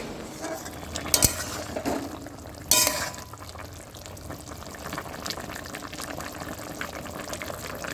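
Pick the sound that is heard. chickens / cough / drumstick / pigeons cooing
drumstick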